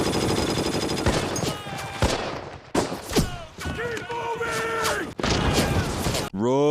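Heavy gunfire from a World War II war TV series, rapid bursts and shots crackling densely throughout, with shouting voices mixed in and a brief lull midway before the firing resumes loudly.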